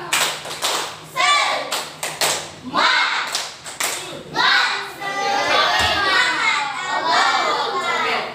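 Children in a classroom clap out a rhythmic chant together, bursts of claps and young voices alternating in quick patterns before settling into a continuous noisy group sound.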